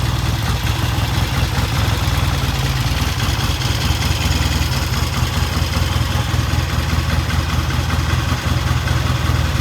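Loud, close idle of a vintage British motorcycle, a 1968 Triumph T100 or 1974 Norton, a steady throbbing engine beat held evenly throughout with no voices.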